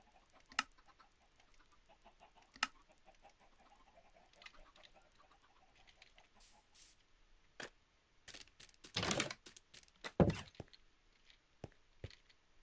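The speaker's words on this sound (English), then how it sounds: "Chicken." Chicken clucks from the Minecraft video game come as sparse, faint short calls scattered over a quiet background, with a few louder sharp effect noises near the end.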